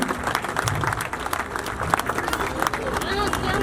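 Audience applause at a retirement gathering, a dense wash of clapping from a crowd with murmuring voices mixed in, steady and fairly close throughout.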